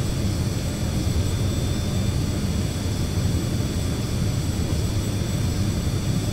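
A Carenado Citation CJ2 business jet engine idles in the Prepar3D flight simulator, a loud, steady roar and whine with no change in pitch throughout.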